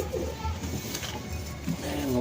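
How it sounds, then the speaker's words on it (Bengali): Lamba breed pigeons coo in a loft, a few soft low burbling calls close by, with people talking intermittently over them. "খুব ভালো নরটা পায়রা, খুব ভালো পায়রা"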